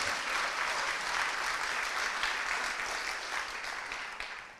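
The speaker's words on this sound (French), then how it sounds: "vous allez les applaudir s'il vous plaît" An audience at an international film festival applauds the filmmakers, a steady wash of clapping that fades gradually toward the end, with no talk over it.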